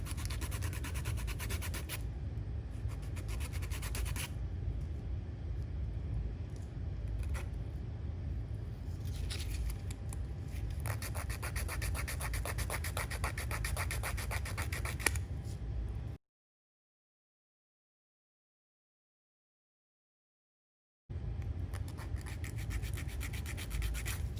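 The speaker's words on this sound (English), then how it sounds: "So I'm filing straight down on both sides." A wide nail file works straight down both sides of a paper towel fingernail extension, giving continuous close scratchy rubbing strokes that stop for several seconds of silence before resuming.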